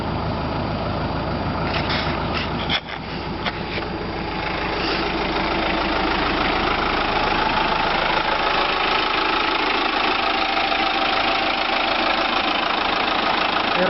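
A Kia Bongo 3 with a J3 engine idles steadily for the whole stretch, its fault showing as a constant hammer-like knocking in the running note, with no voices.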